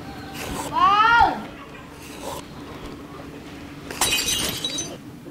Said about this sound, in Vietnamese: Vỡ bát rồi anh ạ.